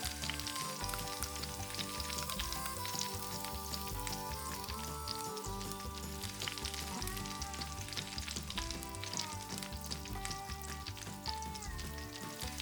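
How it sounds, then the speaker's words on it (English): Miniature fried egg and beef sizzling in hot butter in a tiny pan, a dense continuous crackle and spatter holding steady and close throughout, with no voices. "Fry with hot butter."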